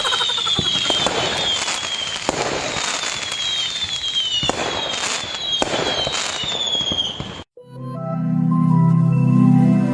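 Firework rockets shriek with repeated descending whistles amid dense crackling bursts, loud and continuous, before the sound cuts abruptly to a different, tonal passage.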